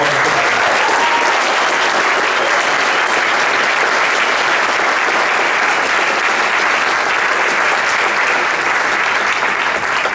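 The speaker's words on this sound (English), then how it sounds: "So one more round of applause" Loud, sustained applause from a high school winter jazz concert audience, a dense continuous roar of many hands clapping without letup for about ten seconds.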